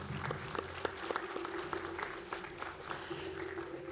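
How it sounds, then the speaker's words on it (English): Audience applause at a Massey University Pasifika graduation celebration in Manawatu, a steady patter of hand claps sustained throughout at moderate level, with scattered sharper claps standing out. "Let's give her a round of applause as she's coming up."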